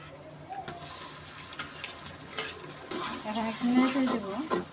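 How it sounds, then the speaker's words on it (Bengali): Sliced onion, cardamom and cinnamon fry in oil for chicken biryani, a soft close-up sizzle broken by the scrape and clink of a spoon against the pan, with a faint voice near the end. "পেঁয়াজ মশলা ভেজে নিলাম"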